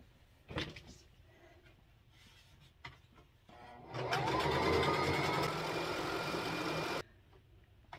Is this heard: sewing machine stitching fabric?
yes